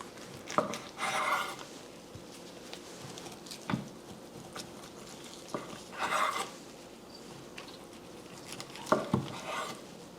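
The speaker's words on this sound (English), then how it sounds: "I'm just going to cut it into more manageable pieces." Knife cutting a cold boneless pork butt on a board: a few soft, scattered slicing and squishing bursts with light knocks against the board and quiet pauses between cuts.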